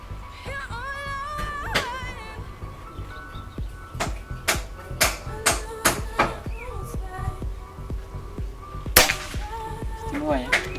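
A series of sharp, snapping PCP air rifle shots rings out at irregular intervals, loud and close, with faint chirping and background murmur between them.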